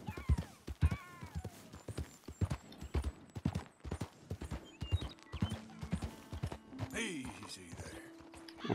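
A horse in the video game Red Dead Redemption 2 clops along in a steady, close hoofbeat rhythm, then lets out a whinny near the end as the gait breaks up.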